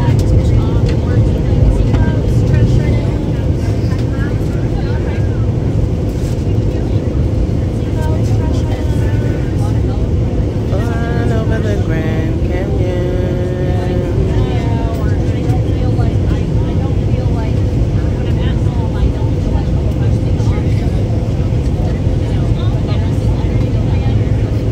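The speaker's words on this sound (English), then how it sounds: "Welcome to Las Vegas, we'll be landing soon." Steady, loud airplane cabin roar as the plane descends to land in Las Vegas, a continuous deep engine drone with faint voices murmuring underneath.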